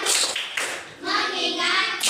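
Schoolchildren in a classroom clap out a rhythmic patterned chant, with bursts of clapping and young voices chanting in time.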